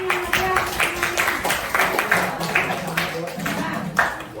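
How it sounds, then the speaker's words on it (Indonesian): An audience at a school event bursts into applause, a dense, lively patter of many hands clapping continuously, with voices mixed in. "Kita kasih tepuk tangan yang meriah."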